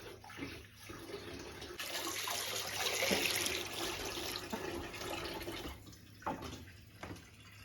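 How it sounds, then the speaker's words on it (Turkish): Water pours steadily from a tap into a pot of freshly foraged pine mushrooms, a broad rushing hiss that swells and holds for several seconds before easing into splashes and trickles. "mantarlar komple suyun altında kalacak şekilde su dolduruyoruz üstünü"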